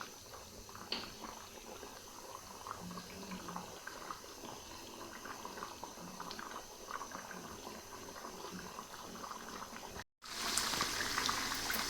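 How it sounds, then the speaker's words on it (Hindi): A pot of white korma made with yogurt and cream simmers as the water cooks off, giving a faint, continuous bubbling and hiss that cuts out briefly near the end, then returns louder. "अब हम ये सब चीज़ों का पानी अच्छे से खुशक कर लेंगे।"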